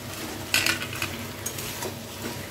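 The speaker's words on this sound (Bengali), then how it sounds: "পনিরটাও কিন্তু আমি এর সাথে ভালো করে কয়েক সেকেন্ডের জন্য কষিয়ে নেব" Paneer stir-fried with spices in a pan for paneer biryani, a steady sizzle with a few sharper scraping stirs near the start, close and moderately loud, no talking.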